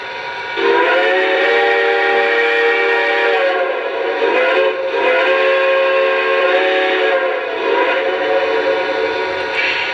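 A deep, chime-like steam whistle setting number 5 on a Lionel Conrail T-1 model train sounds in three long, loud blasts with quick gaps, close and unaccompanied by speech.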